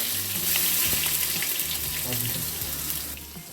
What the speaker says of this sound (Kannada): ನೀಟಾಗಿ ಹಸಿ ವಾಸನೆ ಹೋಗೋವರೆಗೂ ಫ್ರೈ ಮಾಡಿಕೊಳ್ಳಬೇಕು ನೋಡಿ ಚೆನ್ನಾಗಿ ಫ್ರೈ ಆಗ್ತಿದೆ